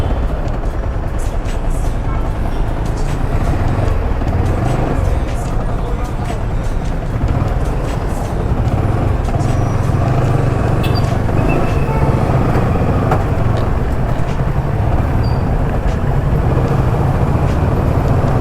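Dense city road traffic heard from a moving motorcycle, a continuous rumble of engines and wind with passing vehicles close by, while a rider talks over it.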